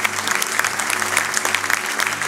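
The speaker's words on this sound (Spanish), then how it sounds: "Demos un aplauso grande al Señor esta mañana" A church congregation applauding during a Sunday morning service, thick and sustained clapping at close range, with a low hum of instruments beneath.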